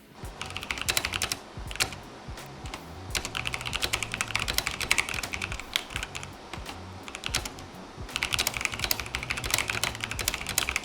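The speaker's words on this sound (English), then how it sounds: "Here is the sound test of the keyboard." Steady typing on a Logitech G715 mechanical keyboard with brown switches, a continuous patter of soft, muted key clacks with occasional brief pauses, close and clear with no voices.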